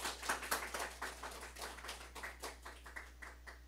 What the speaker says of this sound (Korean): 인사할 때 환영의 박수를 쳐주시기 바랍니다.